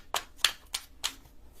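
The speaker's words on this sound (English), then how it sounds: "Y'all might have to fast forward through the shuffling" Tarot cards are shuffled in four crisp, evenly spaced riffling snaps, close and fairly quiet, with no talking.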